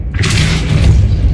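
A Depulso spell in the Hogwarts Legacy video game lands as one loud, deep boom that rolls on as a sustained rumble with a brief bright burst at the onset.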